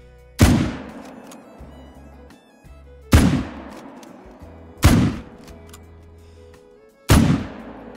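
Four loud, sharp gunshots from a .303 British bolt-action rifle ring out outdoors at uneven intervals of a few seconds, each with a sharp crack and a long rolling echo that fades before the next one.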